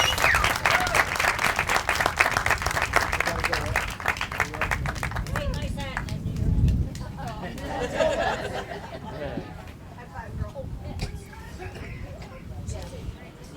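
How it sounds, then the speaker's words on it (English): A crowd at a Relay for Life event bursts into loud applause with dense clapping, tapering off after several seconds as chatter and murmuring voices take over. "Let's give them a huge round of applause."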